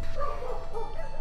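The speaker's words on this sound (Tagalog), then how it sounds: "Tumatahol na aso." A dog barks in a house late at night, a few short yips and bow-wow calls close by, in quick succession.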